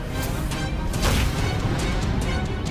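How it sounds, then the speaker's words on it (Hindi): A door is smashed in with heavy repeated crashing blows, loud and close, a continuous rough battering burst in an indoor crime-drama scene. "तोड़ दो दरवाजा"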